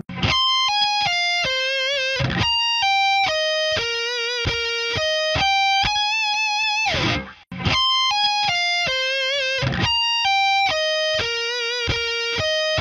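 A distorted electric guitar plays rapid three-string arpeggios, a minor shape moving into a major one, as a bright cascading run from a solo, repeated twice, loud and with no talking.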